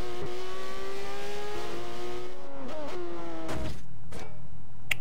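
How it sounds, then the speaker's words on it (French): A car in a video game revs hard and drifts, its engine tone climbing and dipping loud and close, with a skidding screech and a couple of sharp bangs toward the end. "Ça, c'était du dérapage, mon pote."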